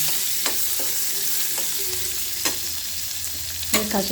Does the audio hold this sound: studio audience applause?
no